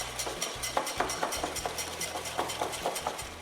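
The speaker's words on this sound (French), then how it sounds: "je blanchis l'ensemble à l'aide d'un fouet" Egg yolks and caster sugar whisked by hand in a bowl, a wire whisk beating out quick, steady rhythmic scrapes and clicks, close and fairly quiet with no talking.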